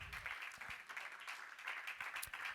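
A congregation claps together during a church service, a steady burst of applause that fills the room for a couple of seconds with no speech over it.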